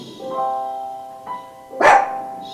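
A small indoor guard dog lets out one brief bark near the end, over a steady tonal hum and faint background sound.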